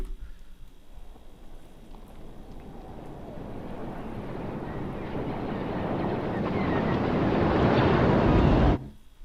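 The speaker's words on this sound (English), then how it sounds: "There's wind in there. There's way more blasters." Wind and blaster sound effects layered in a Star Wars film mix, heard as a broad roaring wash that steadily swells louder over several seconds before cutting off abruptly near the end, with no talking.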